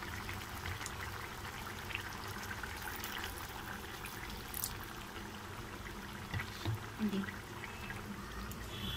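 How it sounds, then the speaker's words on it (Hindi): Water is poured into a pan of Rohu fish egg curry as it cooks, giving a soft, continuous liquid pouring and simmering sound at low volume. "मैं इसमें और थोड़ा सा पानी ऐड करूँगी।"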